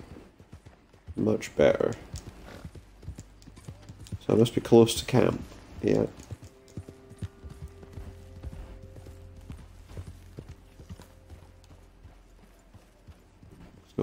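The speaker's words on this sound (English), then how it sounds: "My horse that I called just comes running in." Hooves clip-clop in quick bursts as a video-game horse trots up, then fade under a steady low tone while someone talks over it.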